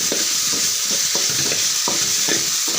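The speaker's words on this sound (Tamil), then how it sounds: "நல்லா கிளறி விட்டுக்கலாம்." Cooked pasta is stirred with egg in a hot sizzling pan, a steady frying hiss broken by a regular rhythm of scraping strokes, close and with no one talking.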